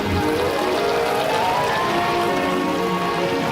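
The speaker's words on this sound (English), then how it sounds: "Nothing beats a nice shiny rainstorm." Heavy rain pours down in a dense, steady hiss of drops striking surfaces, loud and unbroken throughout with no voices.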